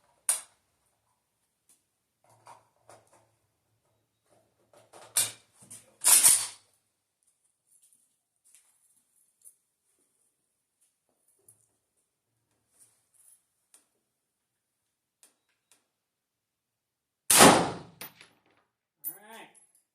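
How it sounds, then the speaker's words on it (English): A PSA AK101 rifle with a suppressor is reloaded at a range, with scattered sharp metallic clicks and clacks, a couple of louder clattering bursts, and long quiet gaps between the handling noises. "So let's go ahead and just reload this guy."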